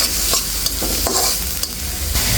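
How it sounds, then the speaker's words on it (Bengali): Whole spices frying in oil for a fish curry, with a loud, continuous sizzle under repeated scraping stirs of a spatula in the pan, heard up close without voices. "সব মশলাগুলো দিয়ে তেলের সাথে একটু নেড়ে ছেড়ে হালকা বাদামি কালার করে"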